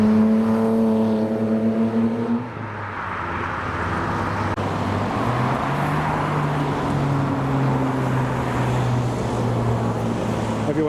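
A lowered Mini and a Nissan Skyline V-Spec II drive past at a car show, engine drones with shifting pitch as the cars roll by close and loud, one fading while the next approaches.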